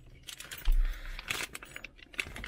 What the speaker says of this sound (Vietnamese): Đây là chìa khóa của em nó này.